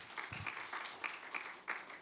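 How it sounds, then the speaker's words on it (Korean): Audience applause at a Christian alternative school's admissions information session, a faint, steady patter of many hands clapping at a distance, with soft accented bursts. "하나님께 영광의 박수를 올려드리겠습니다"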